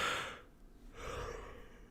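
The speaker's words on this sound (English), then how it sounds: "I gotta stop yawning, you guys." A person yawns, a long breathy inhale that tails into a drawn-out exhale, close and fairly quiet, with no talking.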